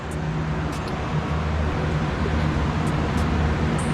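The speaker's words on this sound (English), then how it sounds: "Sorry for the noise, I got the fans going." Steady broadband whooshing of fans running continuously in a powder coating workspace, loud and close, with a low hum underneath and no talking.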